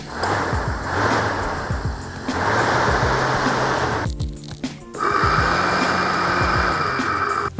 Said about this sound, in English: I then powered up each of the fans on the bench.